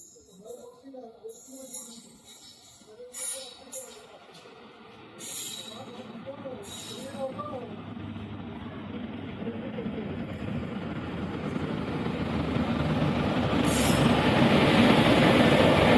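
A train pulls in, its rumble and rolling clatter growing steadily louder until it fills the scene, with someone talking over it early on.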